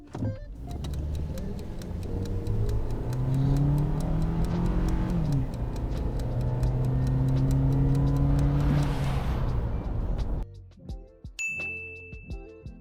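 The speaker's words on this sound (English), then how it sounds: "We're going to accelerate as quick as we can, counting down from 3 to our 3-door Jimny over there." A three-door Suzuki Jimny accelerates hard from a standstill, its engine revving up through rising tones with an audible gear change, heard from inside over a repeating ding chime that continues after the engine note drops away.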